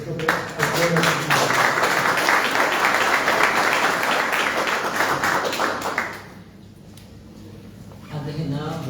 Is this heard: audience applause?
yes